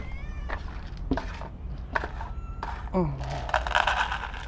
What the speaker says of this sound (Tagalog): pakainin mo natin mga pusa